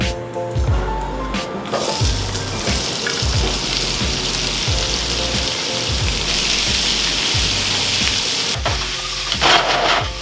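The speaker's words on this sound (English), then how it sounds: "I'm gonna drop the mirepoix in there so it will bring it all back up" Mirepoix vegetables hit a hot pan where oxtails were seared for a braise, setting off a loud, steady sizzle and crackle that stays up throughout, with a few scraping stirs and no voices.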